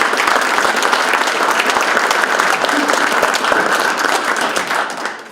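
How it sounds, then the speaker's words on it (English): An audience at a State of the City address in Butte-Silver Bow applauds elected officials with dense, sustained clapping throughout, easing off slightly at the very end. "let's have an applause for those folks"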